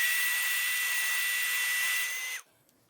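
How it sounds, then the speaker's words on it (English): A low-power heat gun warms the adhesive on a Logitech Harmony remote's buttons, giving a steady, loud airy whir with a thin whine that runs unbroken, then cuts off sharply near the end, leaving near silence. "I've got a low-power heat gun."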